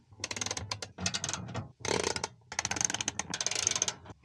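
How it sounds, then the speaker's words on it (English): A hand ratchet fitted with a 10mm socket backs out the bolts holding a plastic cover on a fifth-generation Toyota 4Runner, giving loud, rapid clicking bursts in several separate runs with short pauses between them, close up. "It's pretty easy, just a few bolts using a 10mm socket."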